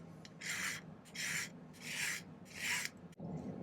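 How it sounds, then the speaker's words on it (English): Hand file rasping across the bottom of a silver ring to flatten it, four steady strokes in a regular back-and-forth rhythm, close and clear with no talking. "I'm just filing the bottom flat now."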